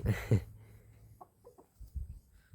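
Backyard chickens cluck in short, scattered bursts, a couple of louder clucks at the start followed by softer, quieter clucks nearby.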